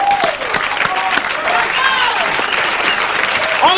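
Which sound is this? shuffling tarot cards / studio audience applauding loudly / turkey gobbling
studio audience applauding loudly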